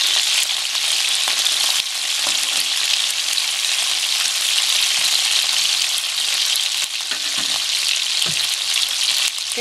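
Chicken wings fry in hot oil for teriyaki, giving a loud, constant hiss and crackle that runs unbroken and close, with no voices.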